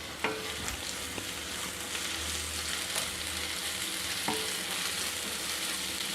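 Onions with curry leaves and green chillies sizzling in a pan for Kerala beef roast: a steady, close, hissing fry with a few faint clinks of stirring, and no speech.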